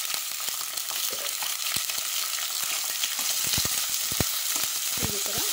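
Brinjal frying with turmeric powder in a pan, a loud continuous sizzle broken by frequent scraping and tapping strokes of a stirring spoon.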